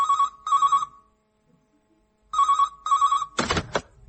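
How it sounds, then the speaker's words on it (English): Telephone ringing to an answer phone in a house in Salisbury: two double electronic rings separated by a pause, fairly close and clear, followed by a brief clatter as the line is picked up. "Now over to an answer phone in a house in Salisbury."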